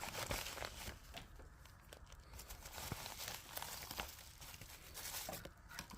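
Close, quiet rustling and crinkling of a packaged parcel of trading cards being cut open with scissors, with irregular snips, tears and crackles of plastic and paper.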